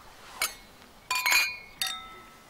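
Glasses clink during a toast, three bright close chimes in quick succession, the middle one a double knock, over a quiet room.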